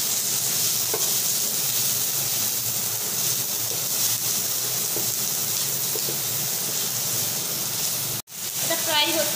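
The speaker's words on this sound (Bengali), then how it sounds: "এটা ফ্রাই হচ্ছে" Chopped chilies and vegetables frying in a pan for Bombay-style pav bhaji, a steady broad hiss and sizzle with a few faint taps, briefly cut off near the end before resuming.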